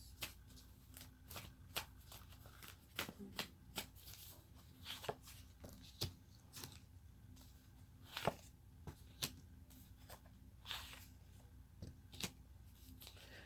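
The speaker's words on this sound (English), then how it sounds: "So I'm going to go ahead and draw 3 cards." Tarot cards being shuffled and drawn from a deck: a steady run of soft papery flicks and snaps, close and quiet, repeating irregularly with no talking.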